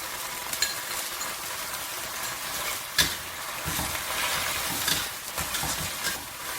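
Napa cabbage leaves stir-fried in a wok with a mixed vinegar sauce for sour cabbage, with continuous loud sizzling close by, broken by sharp spatula scrapes and tosses, and no voice.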